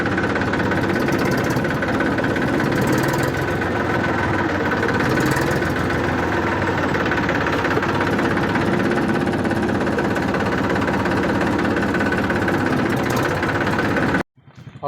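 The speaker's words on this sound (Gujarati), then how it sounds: "સાંભળો થોડોક ખુલ્લો હોય તો થોડોક અલગ જ અવાજ આવે ટ્રેક્ટરનો." A 2020 tractor engine idles up close with a steady deep rumble and a rapid knocking pulse, holding constant for about fourteen seconds before cutting off abruptly, with no voices.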